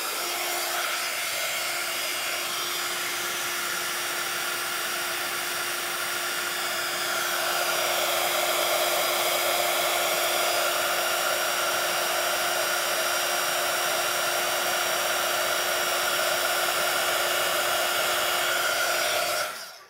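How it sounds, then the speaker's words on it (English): A heat gun blows hot air in a steady, loud whine with a constant tone throughout, growing slightly louder partway through and cutting off at the very end; no one speaks. "And I even have two heat guns."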